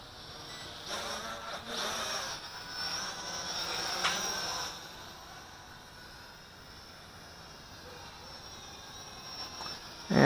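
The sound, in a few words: Helicute H806 Hoverdrone hexacopter drone flying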